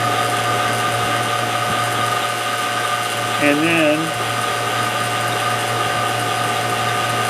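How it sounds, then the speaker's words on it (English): Vacuum pump runs on the air-conditioning system of a 1939 Pontiac Deluxe Coupe, a steady, even mechanical drone with constant tonal hum throughout, while a voice speaks briefly in the middle. "I'm going to turn the vacuum pump off."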